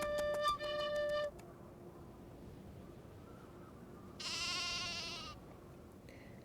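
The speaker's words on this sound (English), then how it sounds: "Oh, there's a sheep." A sheep bleats in the video game Nancy Drew: The Haunting of Castle Malloy, two wavering calls, one at the start and a longer one later, clear against a quiet background.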